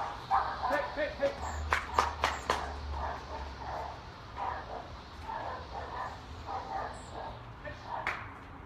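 Dogs bark and yip in a burst of sharp, repeated calls near the start, then quieter yelps continue under ongoing talk in a home setting.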